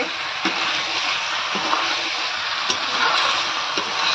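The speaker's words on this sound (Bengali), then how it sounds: "চিকেন একটু ভালো করে কষতে হয়" Chicken pieces slow-fry in a pan for Bengali kosha, giving a steady close sizzle with occasional soft ticks and stirring scrapes, with no talk over it.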